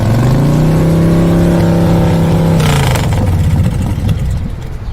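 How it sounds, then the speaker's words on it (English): A toy Tomica delivery motorcycle's engine revs loudly and close, a sustained droning tone that rises and then drops away into rougher rumble. "Motorcycle."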